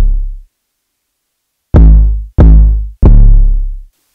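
Three heavy 808 bass hits from an FL Studio trap beat boom in succession, each deep and sustained with a fading tail, after the decay of an earlier hit. No drums or voices are heard alongside.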